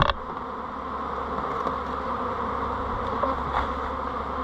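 Honeybees buzzing around an opened hive during a varroa check, a steady dense drone with individual bees passing close now and then, no voices.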